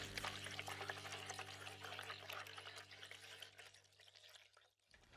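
Spring water is poured steadily for making coffee, a faint, continuous splashing stream that runs for about five seconds before stopping abruptly.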